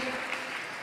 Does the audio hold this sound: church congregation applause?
yes